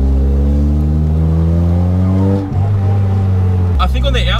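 Car engine with an exhaust leak accelerating, a loud, close, steady droning roar that climbs in pitch, briefly dips, then settles into a lower drone as a voice speaks near the end.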